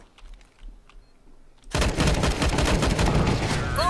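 Counter-Strike: Global Offensive gunfire: after a quiet start, a sudden loud, sustained burst of rapid shots and explosive bangs fills the rest of the clip.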